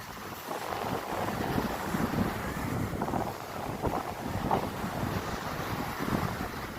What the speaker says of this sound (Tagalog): Malaki pang alon oh. Nampasampa sila ng malaking alon.